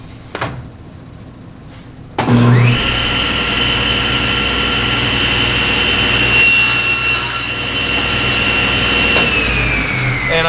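A table saw spins up, then cuts through wood held against a miter gauge, a loud steady high whine over a broad grinding rasp lasting several seconds, with a brief shriller burst partway through the cut.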